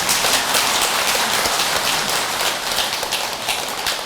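Sustained audience applause filling a Buddhist dharma assembly hall, a dense, steady wash of many hands clapping at once, loud and unbroken with no voices on top.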